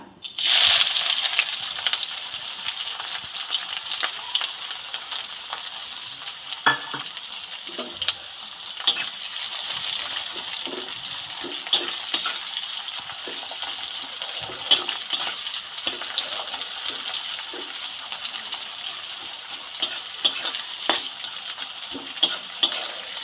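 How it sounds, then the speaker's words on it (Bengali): Sliced onions, whole cumin and a bay leaf fry in oil for an egg omelette curry, a long, steady sizzling hiss close at hand with scattered small pops and stirring clicks, no voices. "পেঁয়াজটা ভালো করে ভেজে নেব"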